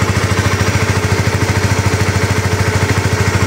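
A sport motorcycle engine, a CBR or R15, runs right after starting, a loud, close, rapid and even pulsing idle throughout.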